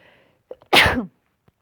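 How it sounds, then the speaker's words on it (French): One loud, close sneeze with a small sharp intake of breath just before it, surrounded by near silence and a brief faint voice at the start. "après ces éternuements"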